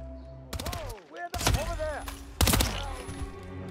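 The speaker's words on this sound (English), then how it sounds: "Where am I getting shot from?" Gunshots are fired at the player in the video game Hitman: sharp, loud cracks arrive in three bursts separated by brief gaps, mixed with game sounds and a voice speaking between the shots.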